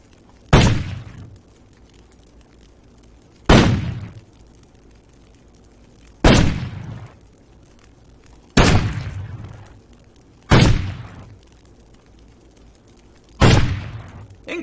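Firework rockets fired in the pirate game Risen 2, six sharp loud bangs spaced about every two to three seconds, each trailing off in a short decaying rumble.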